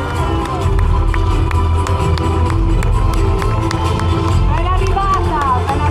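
A large crowd welcomes the minister for disabilities with loud, dense clapping mixed with cheers and shouting, a steady wall of sound throughout with some voices and whistles rising above it near the end.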